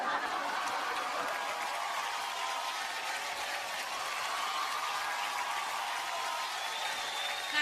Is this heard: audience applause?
yes